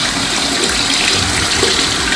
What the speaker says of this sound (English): turn the water down just a little bit.